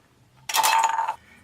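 Scissors slice through a thin aluminum beer can, cutting it in half: a single bright, crinkly metallic rasp lasting about half a second, close and fairly loud against a quiet background.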